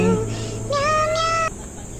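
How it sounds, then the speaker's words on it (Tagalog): A pet cat named Ming gives one long, clear meow close by, a drawn-out tonal call lasting most of a second over a steady background hum, with no talk. "May pusa ako dito, guys."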